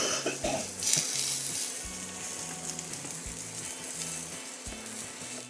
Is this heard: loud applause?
no